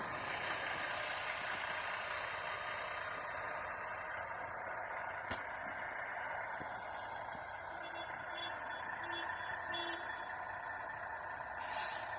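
A stuck milk truck being pulled by a tractor up a snowy driveway during a snowstorm: a steady engine drone at a distance, with faint intermittent beeps and a brief hiss of air brakes.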